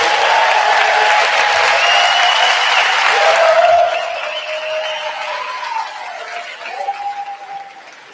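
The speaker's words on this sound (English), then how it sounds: "So we give you a round of applause." A crowd at a high school graduation applauds for the athletes and coaches, loud dense clapping that thins after a few seconds, with faint cheers and voices under it.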